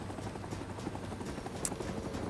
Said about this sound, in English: I get to fly one of these really cool helicopters